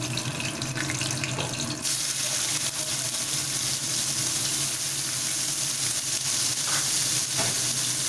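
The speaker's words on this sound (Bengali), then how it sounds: "পেঁয়াজ কুচিগুলোর সময় আমি সামান্য নুন দিয়ে দিলাম, দিয়ে একটু ভাজার জন্য ছড়িয়ে দিলাম।" Chopped onions and two slit green chilies with a pinch of salt fry in hot oil for a winter-vegetable egg curry. The sizzle is steady, close and continuous, with no talk.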